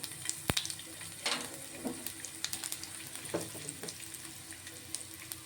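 Garlic and asafoetida sizzle steadily in hot oil for a tomato chutney, a close, continuous crackling fry with a few louder pops and spoon stirs, no talking.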